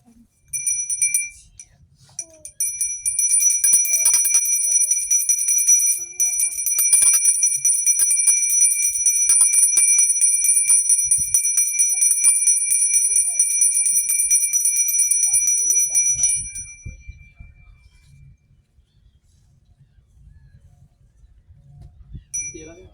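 A small ritual bell rings rapidly and continuously during a Shiva Rudra Abhishek, a bright sustained metallic jingle that runs for about fifteen seconds before stopping, with faint voices and chanting around it.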